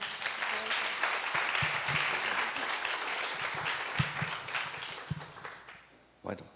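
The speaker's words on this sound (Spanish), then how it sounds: "Un aplauso, por favor, para el doctor" An audience gives steady applause to welcome a speaker at a history talk, a dense wash of clapping that holds for several seconds, then thins and fades out, with a louder clap near the end.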